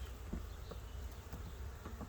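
Honey bees buzzing steadily throughout a hive inspection of a colony that has swarmed heavily, a continuous low drone at moderate, even level with no voices.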